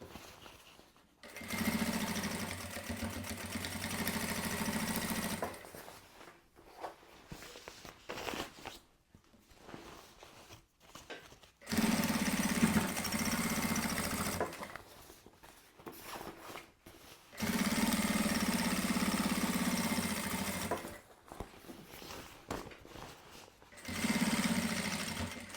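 A sewing machine topstitches around a panel seam, starting from a side seam. The motor runs in four long, steady bursts separated by short quiet pauses. No voices are heard.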